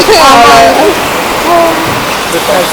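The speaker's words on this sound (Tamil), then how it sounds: "எல்லா கிளம்புற நேரத்தில் மழை வந்துருச்சு" Rain falls steadily at a farm house in Pollachi, a continuous broadband wash running beneath people talking loudly nearby.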